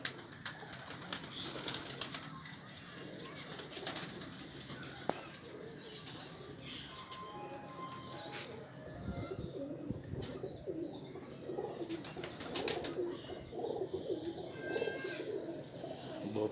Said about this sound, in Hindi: ये सारे घर वाले कबूतर हैं।